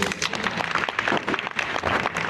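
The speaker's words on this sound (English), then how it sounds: "Why don't we start Katie off with a big round of applause?" A crowd applauds to welcome a performer onstage, a moderately loud clatter of many hands that swells and dips slightly throughout.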